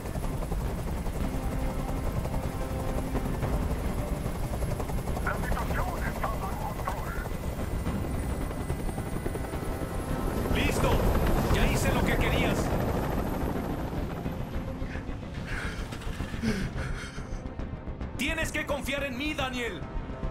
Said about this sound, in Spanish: ¡Ya no resisto más ese ruido! ¡Haz que ese helicóptero se vaya!